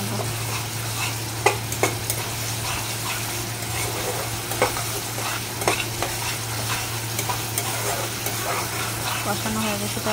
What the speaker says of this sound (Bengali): এই যে তেলটা ছেড়ে দিচ্ছে, ভালো করে নাড়িয়ে